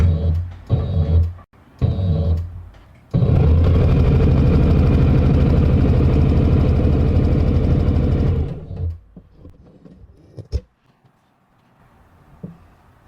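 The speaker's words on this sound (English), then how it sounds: "I'm going to press the pedal down and just sew a standard straight stitch" A sewing machine runs a standard straight stitch under pedal control: a few short stop-start bursts, then a steady, loud, even mechanical whir for about five seconds, which stops and is followed by quiet handling noises.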